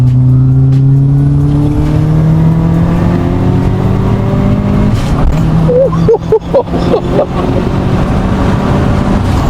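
Modified turbocharged Subaru car revving in a steady loud drone, with bursts and fluttering sounds from the blow-off valve partway through, heard close up with no talking.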